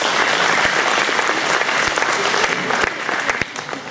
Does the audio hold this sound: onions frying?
no